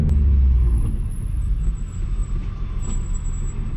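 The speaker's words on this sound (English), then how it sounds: "Super loud brakes, very annoying, very embarrassing" Loud hissing, squealing brakes on a Nissan GTR, sounding like a semi truck's air brake, with a sharp burst at the start and a steady rumbling hiss continuing behind it.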